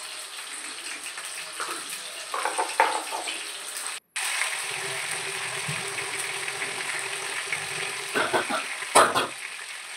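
Chopped tomato frying in refined oil in a home kitchen, a steady hiss and sizzle with a few louder bursts of crackling, close and without talk.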